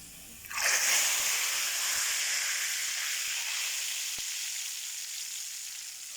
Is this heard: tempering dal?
yes